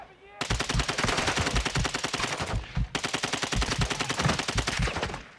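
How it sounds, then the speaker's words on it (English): Two long bursts of rapid automatic gunfire from a video game, loud and close, with a short break between them and a brief gap at the start. "I don't know what was shooting me."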